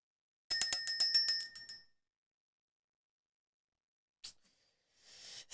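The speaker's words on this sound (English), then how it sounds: "Let's ring the bell and clear the energy." A small bell rung once in a spiritual cleansing ritual, giving a quick run of bright, ringing chimes that decay over about a second, followed by near silence and a couple of faint rustles.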